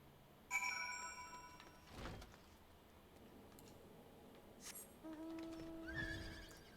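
Horse neighs in Final Fantasy XIV, with a whinny near the start and another later, separated by brief game sound effects over a quiet ambient background.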